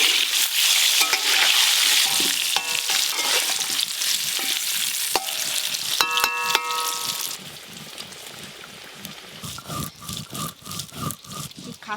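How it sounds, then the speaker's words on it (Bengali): Potatoes fry in hot oil for a mutton curry, a steady close sizzle with scraping stirring clatter and a few sharp knocks that settle into softer bubbling frying. "এদিকে তেল গরম হয়ে গেছে, আলুগুলো লাল লাল করে ভেজে নেব।"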